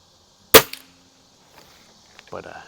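A single sharp, close crack from a Cometa 300 air rifle firing a JSB match pellet, quick decay, then near silence with a faint distant impact and light handling noise afterward.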